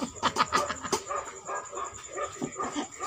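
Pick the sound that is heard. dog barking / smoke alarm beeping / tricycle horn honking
dog barking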